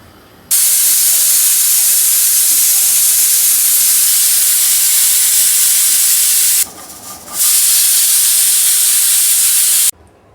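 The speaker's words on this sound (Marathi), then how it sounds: "आता मी लीड लावून घेते कुकराचं आणि 3 शिट्या मी काढून घेणार आहे" A pressure cooker boiling sweet corn on a kitchen stove lets out loud, continuous hissing steam as it whistles. The hiss dips briefly for a moment, then resumes and cuts off abruptly.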